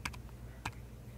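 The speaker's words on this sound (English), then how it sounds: "we're gonna have to type disk CS list." A computer keyboard is typed on in three quiet, sparse keystroke clicks spaced about half a second apart over a faint low background hum.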